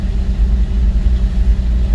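A Toyota MR2 Spyder's exhaust gives a steady low rumble from close by while the car drives at an even pace, with no speech over it.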